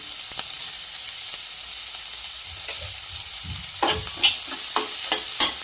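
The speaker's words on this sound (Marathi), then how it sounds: "कांदा पण ब्राऊन होईपर्यंत पचवून घेणार आहोत" Onion fries in a pan for cheesy masala pasta, a low steady sizzle with a few faint early clicks, then a burst of close scraping and clattering stirs toward the end, no voices.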